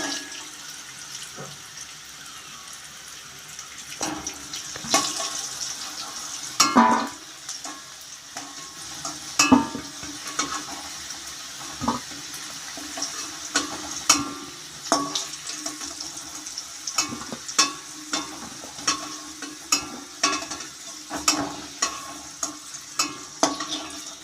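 Potato pieces frying in hot oil and being stirred, a close crackling sizzle with frequent sharp scrapes and clinks of a spatula against the pan, no talk.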